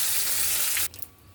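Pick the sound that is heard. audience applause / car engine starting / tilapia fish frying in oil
tilapia fish frying in oil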